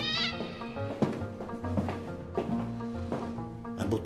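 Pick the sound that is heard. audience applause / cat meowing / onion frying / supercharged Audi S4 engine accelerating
cat meowing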